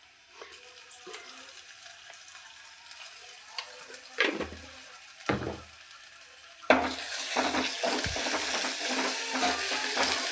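Onions fry in a pan, at first with a soft sizzle and occasional stirring knocks. Then paste is added and a much louder, dense sizzle swells up and carries on steadily, close up with no speech.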